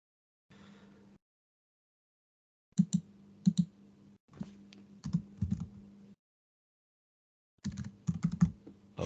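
Computer keyboard typing in short bursts of quick clicks separated by silent pauses, close and fairly quiet, with the last burst the busiest.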